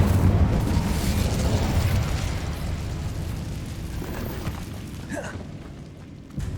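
The Incendio fire spell is cast in Hogwarts Legacy, a loud fiery boom that roars up at once and slowly dies away into a rumbling tail, with a small crackling burst near the end.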